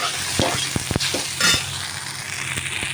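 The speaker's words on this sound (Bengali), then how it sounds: "এবার আমি ভাতটা দিয়ে দিলাম ভাতটা দিয়ে নাড়াচাড়া দিচ্ছি" Rice is tossed and fried in a pan of white oil, a continuous sizzle broken by several scraping stirs and light knocks of a spatula against the pan, close and fairly loud, with no voices.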